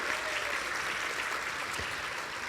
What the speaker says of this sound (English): So give a big round of applause for Kim.